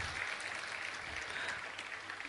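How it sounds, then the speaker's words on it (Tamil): An audience at a Bharatanatyam arangetram gives a short, even burst of applause for a six-dancer group performance, dense clapping heard alone throughout. "அதுக்கு நீங்க கண்டிப்பா ஒரு கரகோஷத்தை வந்து எழுப்பி ஆகணும்."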